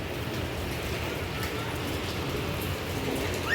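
Steady rain falls with a strong wind outdoors at a village home in Dehradun, a continuous dense wash of drops and gusting air, fairly close and even throughout, with a louder rush right at the end.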